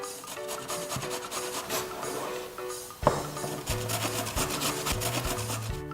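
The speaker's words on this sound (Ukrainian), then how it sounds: "Тепер настав час натерти буряк." Steady rough rasping of beetroot being grated for borscht, continuous back-and-forth scraping strokes, close and fairly loud, with a brief knock partway through.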